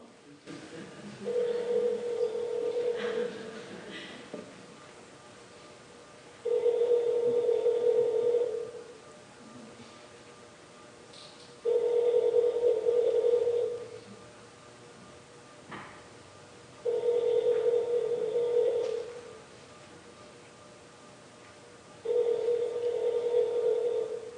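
A telephone ringing, heard as five evenly spaced rings of about two seconds each with short pauses between them, clear and moderately loud with no talk over them.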